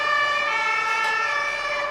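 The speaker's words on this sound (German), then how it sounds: "Nein, das sind keine Krankenwagen. Das sind Polizeiautos." Police car sirens at the scene of a road accident: a steady, unbroken wailing tone holding for the whole stretch, loud and clear with no talk over it.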